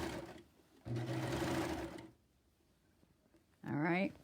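A domestic sewing machine stitches a half-inch side seam on an Islander shirt in two bursts, a steady close whir for about a second, then quiet, then a shorter run at the end.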